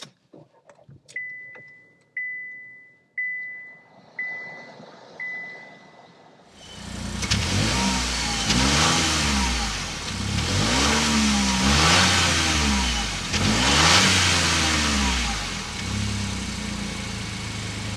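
A 2024 Chevrolet Trax is started up from inside the cabin: after a few short chimes the engine catches, then revs climb and fall in repeated surges of acceleration, loud and close, with no talking.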